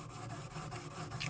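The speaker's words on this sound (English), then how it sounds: "So again, you put the stone flat like you do a chisel," A sharpening stone rubs flat against the metal of a chisel in steady, faint strokes, a soft continuous scraping with slight rhythmic pulses and no voices.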